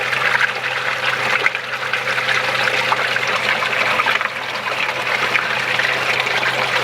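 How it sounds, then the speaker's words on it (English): Low, steady mechanical hum of a vibrating pond pump running beneath a constant trickle and splash of moving water. "there is some sort of vibration coming from the pump."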